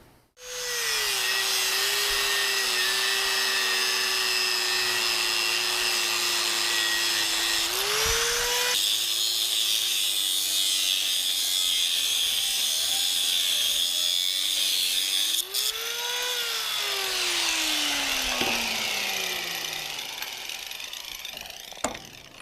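Cutting through the sleeve of a Caterpillar D2/D4/D6 fuel injector socket tool with a power saw, a steady loud grinding whine running the whole time with pitch shifts and short dips as the cut progresses.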